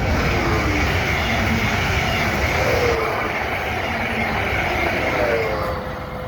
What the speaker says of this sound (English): Oh, the train coming, hang on.